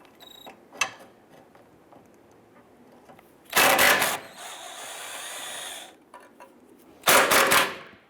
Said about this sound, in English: We're going to use our 13mm socket and extension. Let's go ahead on up here and loosen and remove these 2 bolts.